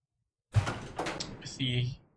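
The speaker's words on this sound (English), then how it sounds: "So we go ahead and go through this door." A door swings open in the video game Resident Evil Zero, a single close, moderately loud sweep with a brief creaking, ringing tail that fades out after about a second and a half.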